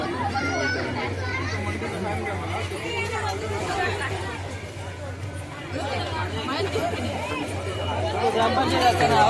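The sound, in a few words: crowd chatter at a busy fair hotel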